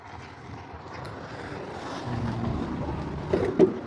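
A machine's motor, offered for sale, runs steadily with a low rumbling drone that grows slightly louder partway through, buffeted by wind noise and a couple of brief knocks near the end.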